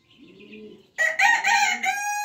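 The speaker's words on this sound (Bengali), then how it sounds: "এখানে অনেকগুলো আছে এবং আরও মুরগি আছে যেগুলো আমি আপনাদেরকে দেখাচ্ছি" Chickens at a poultry chick farm: a soft, low call comes first, then a loud, close, drawn-out crow-like cry with bright harmonics that holds for over a second, with no talk.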